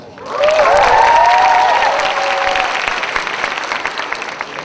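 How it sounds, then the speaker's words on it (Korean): A large audience at a free talk-concert during a university autumn festival swells into loud applause and cheering with a few whoops, then slowly tapers off. "이 정도 박수 받고"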